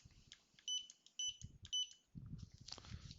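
A barcode scanner starting up gives three short, bright, loud beeps in a quick, evenly spaced row, followed by soft rustling and handling noise.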